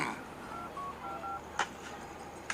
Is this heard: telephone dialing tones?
yes